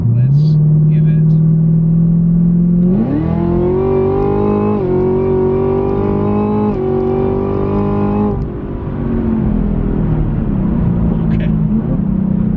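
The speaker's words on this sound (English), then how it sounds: "I would say that we definitely have some blower whine" Chevrolet Camaro ZL1 with a Corsa intake, its supercharged engine accelerating hard with a rising blower whine over a deep exhaust rumble, heard loud from inside the car, easing off briefly before pulling again.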